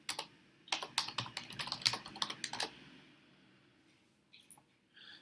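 Clicky keystrokes on a computer keyboard come in a quick irregular run for about two seconds, then trail off into a few faint scattered taps near the close.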